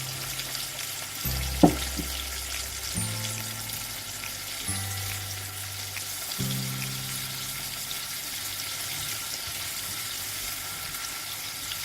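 Masala sizzles steadily in a pan, with a brief splash as about two tablespoons of water are poured in, followed by continued sizzling and soft stirring.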